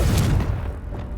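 A Confringo spell explodes in the video game Hogwarts Legacy as a single short, loud, rumbling boom that fades quickly, with no talking.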